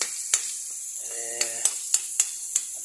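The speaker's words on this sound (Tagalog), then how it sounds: "haluluin na natin mga idol" Sliced kamias sizzle in a pan as a spatula stirs them, giving a steady hiss with a few sharp scraping taps and a brief voice in the middle.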